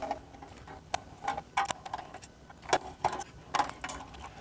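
Silver and black bolts being unscrewed from a Porsche CDR31 radio unit, producing a series of small, close metallic clicks and ratcheting ticks at irregular intervals, with no voices.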